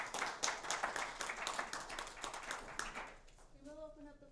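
Audience clapping at the close of an investment talk, a dense broadband patter of many hands lasting about three and a half seconds before fading as a voice begins speaking.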